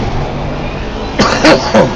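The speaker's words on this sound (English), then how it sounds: "Guys, I'm sorry about coughing." A man coughs during a voice chat while sim racing Assetto Corsa Competizione, with two or three short, harsh bursts close to the mic near the end after a stretch of steady background noise.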